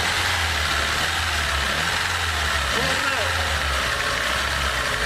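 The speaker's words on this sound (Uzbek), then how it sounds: "Agar sarflash ventini ochirsak, dvigatel aylanishda son ochib ketadi." An internal combustion engine converted to run on compressed gas, idling with a steady low drone and a faint rise in revs midway, a continuous mechanical hum throughout.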